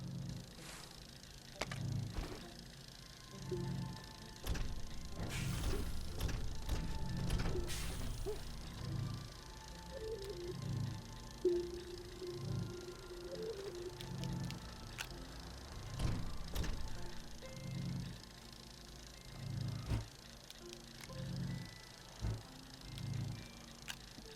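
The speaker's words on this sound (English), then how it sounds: "I immediately start printing the large printer. And here you can probably hear that sound that I was telling you about." A large printer in the Astroneer video game whirs through a print job, repeated mechanical pulses and sliding tones at moderate loudness, heard alone.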